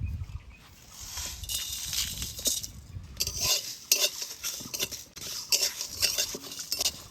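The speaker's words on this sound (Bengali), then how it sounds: "কয়েকটা গোটা মশলা একসঙ্গে ভালো করে ভাজে নিব।" Whole spices (dried chilli, bay leaf, cumin, cardamom, peppercorns, cloves, cinnamon) fry in a pan, with a ladle scraping and clinking against the metal in quick repeated strokes over a soft sizzle, up close.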